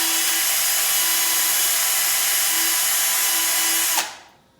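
A rubber cleaning stick pressed against a spinning sanding disc clogged with sawdust, giving a steady loud grinding rub with a constant motor hum that cuts off abruptly near the end as the tool lifts away.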